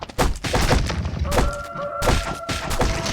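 A sniper rifle fires in the Black Survival video game, with a couple of sharp, punchy shots and thuds over a steady bed of game sound and tonal hums.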